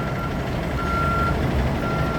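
A Green Line shuttle bus backs up at Babcock Street, its reversing alarm sounding in a steady, evenly spaced pulse over a loud idling engine and street noise.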